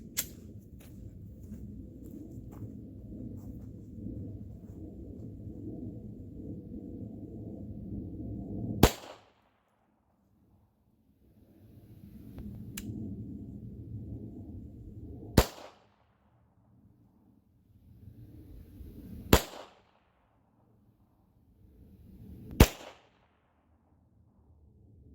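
Five sharp gunshots at a shooting target, spaced several seconds apart, each a loud crack that ends abruptly, with quieter low rustling and handling noise in between.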